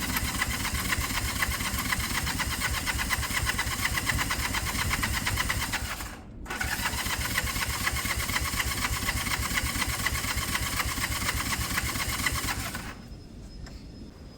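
Honda CB200 motorcycle engine start attempt: steady, fast mechanical chattering like a starter or engine turning over, running continuously and close, cut by one brief gap partway through, then ending abruptly into near quiet, with no talk.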